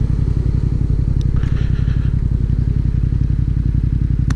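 A Yamaha XSR700 motorcycle fitted with an Akrapovic dual exhaust idles at a steady, deep, rapid throb, loud and close, with no talking.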